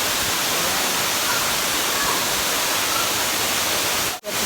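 Kelyen waterfall in Coron, Palawan roars as a dense, steady wash of falling water, loud and close, with a brief dropout near the end.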